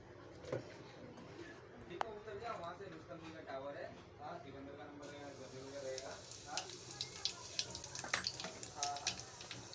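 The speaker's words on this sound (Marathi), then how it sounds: "तेल तापत आहे. आता मम्मी ह्याच्यामध्ये लसूण टाकणार आहे." Garlic dropped into hot oil in a pan for a Konkani-style kulith (horse gram) piti, giving a steady crackling sizzle that brightens and grows busier in the second half, with a few sharp pops and a voice speaking throughout.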